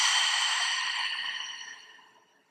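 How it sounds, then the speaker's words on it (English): A single long, breathy exhale through the mouth during a gentle yoga session, close and fairly loud at first, then gradually fading to silence. "Take a big breath in and a big breath out through the mouth."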